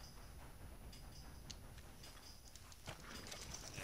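Horse hooves clip-clop in a steady walking rhythm in the video game Red Dead Redemption 2, faint and continuous with no talk over them.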